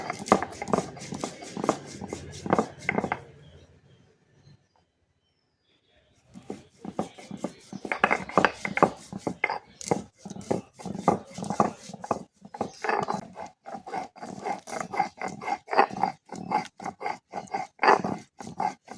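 Cumin and black pepper ground by hand on a grinding stone, heard as rapid rhythmic scraping strokes close by, a brief pause, then a long steady run of back-and-forth rubbing.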